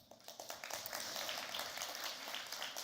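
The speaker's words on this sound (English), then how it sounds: "You guys are going at it with the applause" Audience applause fills a TEDx event hall in Toronto, dense and steady clapping that swells slightly and holds at a lively level throughout, with no voices over it.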